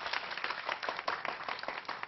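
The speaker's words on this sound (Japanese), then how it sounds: "拍手。" Applause from a crowd at a MapleStory 10th anniversary party held as a commercial unveiling event, a brief burst of dense, steady clapping that is moderately loud.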